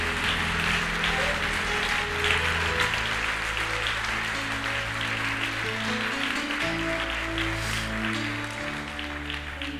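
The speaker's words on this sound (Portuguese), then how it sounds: "Você pode aplaudir o Senhor em nome de Jesus." A church congregation applauds during a Sunday morning service, with steady crowd clapping over sustained organ or keyboard chords that carry on beneath it throughout.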